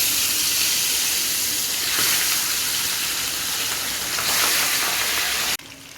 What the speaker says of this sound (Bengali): তেল গরম হয়ে গেছে, এখন মাছ তেলের মধ্যে মাছ দেবো।